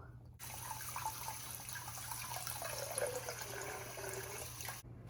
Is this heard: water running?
yes